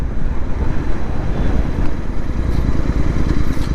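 Heavy, continuous wind buffeting a microphone while riding a modified 2024 Royal Enfield GT650 motorcycle, a loud low rumble that roars steadily throughout as if moving at speed outdoors.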